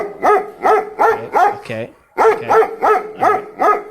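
A dog barks close and loud in a steady rhythm, about eight evenly spaced barks broken by a short pause, with one brief spoken word partway through.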